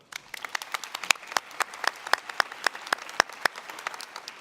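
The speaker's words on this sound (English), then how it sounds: "So if you don't mind applauding them as well." A modest audience at a youth start-up competition applauds, with sparse, distinct individual claps rather than a dense roar, fairly soft and steady throughout.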